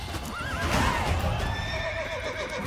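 A horse in The Witcher 3: Blood and Wine gives a loud, wavering whinny close by, with hooves clopping and faint ambient game sound beneath.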